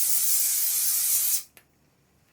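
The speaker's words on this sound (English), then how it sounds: "Let's just spray this." A loud, continuous aerosol fixative spray hisses close by over a drawing for over a second, then stops abruptly, followed by a faint click and near silence.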